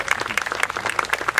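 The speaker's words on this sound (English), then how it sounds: "I know you're also clapping for Muskegon High School" Audience at a Memorial Day speech clapping, a dense burst of many hands applauding close by without voices.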